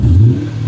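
Low engine rumble from a car with a steady throaty purr, rising briefly then settling into an even idle, close by and fairly loud with no talk.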